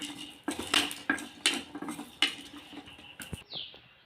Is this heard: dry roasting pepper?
yes